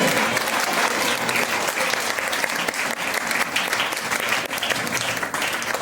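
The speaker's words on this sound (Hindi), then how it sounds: "जोरदार ताली बजाओ" A congregation bursts into loud, sustained applause in church during a Holy Communion Sunday sermon, dense clapping filling the room throughout.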